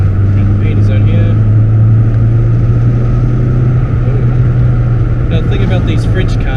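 Peugeot 306 GTi-6 hatchback cruising at about 80 km/h, giving a steady loud engine and road drone with low rumble throughout, while someone talks over it.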